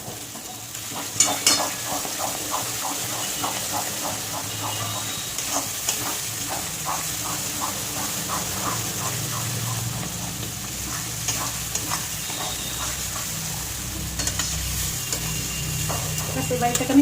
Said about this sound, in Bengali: এবার এটাকে আমি ভালো করে ভেজে নেব।